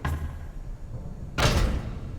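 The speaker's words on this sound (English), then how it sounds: "Once you hear the thump, that means Bonbon has hit the door and it is now safe to open it." In the game FNAF Help Wanted 2, the animatronic Bonbon thumps against the office door: one soft knock near the start, then a louder, heavy thud with a short rumbling tail.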